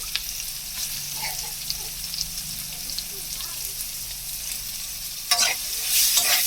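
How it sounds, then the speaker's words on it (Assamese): Soybean chunks sizzle in hot oil with turmeric and salt, a bright continuous frying hiss close up, broken by a few stirring scrapes and a louder burst near the end. "সয়াবিনখিনি অকণমান ভাজি ল'ম, ধুনীয়াকৈ ভাজি ল'ম"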